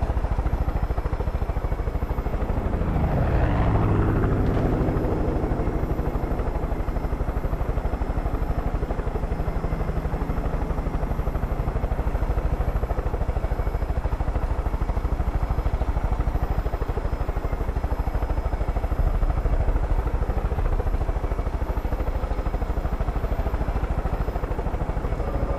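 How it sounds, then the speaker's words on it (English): A helicopter in the video game Far Cry 5, engine and rotor droning continuously at close range, with a rising whine early on as it powers up, then a steady heavy chop. "not the best place for a helicopter?"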